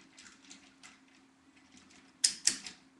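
Plastic joints on a 1993 Bandai Mighty Morphin Power Rangers Deluxe Megazord toy being folded, giving two sharp, close clicks near the end after quiet handling rustles.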